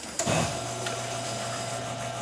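A steady electric pump hum from a Rocket Cellini espresso machine pulling a shot drones on at an even pitch with a brief clunk at the start, close and moderately loud, no voices.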